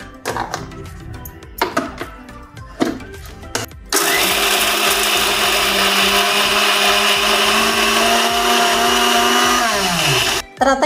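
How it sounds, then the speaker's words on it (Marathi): A mixer grinder grinds coconut for modak filling, preceded by a few sharp knocks and bursts, then a loud steady motor whine with grinding texture running for several seconds before cutting off abruptly near the end. "तर आपण आता हे खोबरं बारीक केलं या मिक्सर मध्ये काढून घेऊया।"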